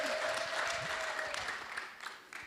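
A church congregation claps for God during a sermon, a dense sustained burst of applause from many hands that fades toward the end, with a voice faintly beneath.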